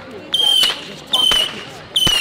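Three small fireworks go off during a Fourth of July celebration in Houston, Texas, each a short, loud whistling burst with crackle, spaced roughly evenly about three-quarters of a second apart.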